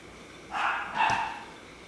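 Two short dog barks sound in quick succession, muffled and somewhat distant over quiet background noise.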